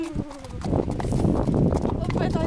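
Horses walk through wet night terrain, their hooves making soft clip-clop steps beneath close, continuous talking and rustling.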